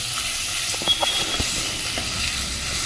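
Onions sauté with salt in a pan, giving a soft, steady sizzling hiss with a few faint clicks and pops.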